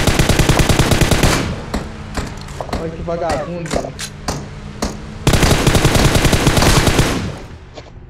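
Loud, rapid machine gun fire in a video game rattles in long sustained bursts at the start and again near the end, with a shouted voice in the quieter gap between them.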